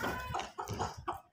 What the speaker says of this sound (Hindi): एक मुर्गे के साथ चार मुर्गे आ गए हैं।